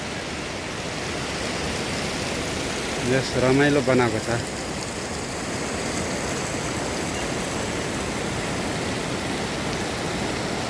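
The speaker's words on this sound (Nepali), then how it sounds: "अहिले चाहिँ यहाँ रक गार्डनको यो पानीको फहरा" A water fountain in a park rock garden pours out a loud, steady rushing splash that fills the whole stretch, with a voice briefly speaking over it near the start.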